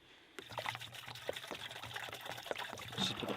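Windshield washer fluid poured straight into a sawmill tank, a faint, steady trickling and gurgling that starts abruptly and continues close by.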